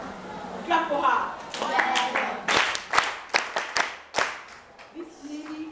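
Classroom clapping during a teacher training lesson, scattered sharp claps from a group of pupils mixed with children's voices and a teacher talking.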